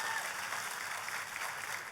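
Congregation applauding at a church service, a steady, dense wash of clapping that fills the whole moment without pause or voices on top.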